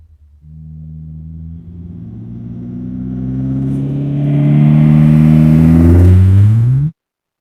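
An AI-generated moving vehicle effect: a steady engine tone that rises in pitch and grows louder for about six seconds, as if accelerating closer, then cuts off abruptly, with nothing else over it.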